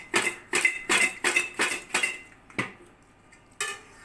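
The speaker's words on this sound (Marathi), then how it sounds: "आणि आता हे आपण छान टॉस करून घ्यायचे. हा मसाला सगळा आपला त्याच्यामध्ये मिक्स करून घ्यायचा." Nachos tossed with masala in a bowl give a quick run of rhythmic clattering shakes, about seven close bursts, then a pause and two separate final clanks.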